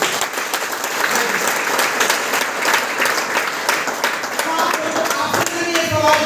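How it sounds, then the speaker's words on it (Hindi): An audience at a motivational talk on network marketing breaks into loud, sustained applause, many hands clapping densely and continuously throughout. "एक बार जोरदार ताली बजाइए इन लोगों को"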